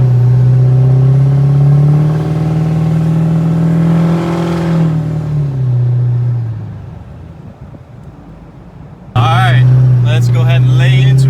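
A Ford 6.4L Powerstroke diesel truck engine revs up loud and close with a deep droning note, eases off and quiets to a low rumble, then roars back abruptly near the end.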